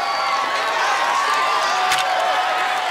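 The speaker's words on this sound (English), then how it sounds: "We're getting the crowd fired up as he jumps up." Television studio crowd cheering for an obstacle course competitor at the salmon ladder, a dense, loud, continuous roar of shouts and whoops with no break.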